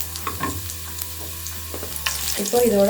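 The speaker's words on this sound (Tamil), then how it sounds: "குட்டி குட்டியாக கட் பண்ண பூண்டு வந்து சேர்த்துக்கோங்க" Finely chopped garlic sizzles and crackles in hot oil in a pan for restaurant-style chicken Manchurian, with close stirring and frying noise that grows louder near the end under a few brief spoken words.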